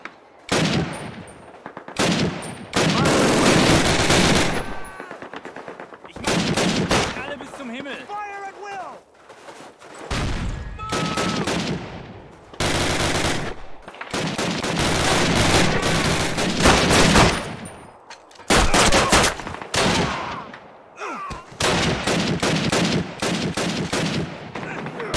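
Call of Duty battle scene: loud, sustained bursts of automatic gunfire and rifle shots, with brief lulls, and shouted voices cutting in between volleys.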